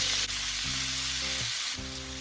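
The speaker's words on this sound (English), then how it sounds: "We want to brown our meat and soften our onions." Cubed stewing beef sizzles steadily in hot oil in a pan, a loud, continuous close-up frying hiss with a faint low hum underneath and no voices.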